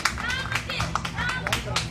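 An audience claps for a singer at a lively trot-style disco medley performance, quick scattered claps over backing music with a voice talking over it.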